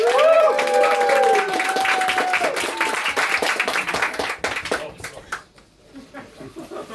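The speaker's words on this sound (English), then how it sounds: "make some noise for Flo." Comedy-night crowd in Tokyo claps and cheers for a comedian, loud and dense at first alongside whooping voices, then thinning out into scattered claps and fading.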